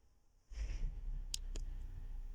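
Two quick, sharp clicks close together from taps on a phone screen stand alone over a low steady background hum.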